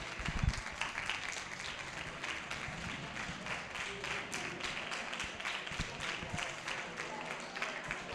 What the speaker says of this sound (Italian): L'applauso delle nostre finaliste.